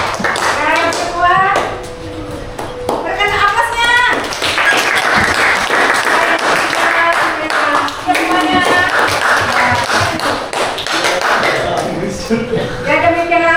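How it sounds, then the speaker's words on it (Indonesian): A classroom of vocational high school students in Tembilahan, Indonesia, breaks into scattered, lively clapping for the top-ranked winners, with bursts of hand claps mixing with talk and chatter throughout. "berikan aplaus kepada peringkat pertama"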